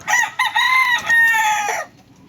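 A rooster crows loudly and close, a few strained, stretched calls with brief breaks, then quiet.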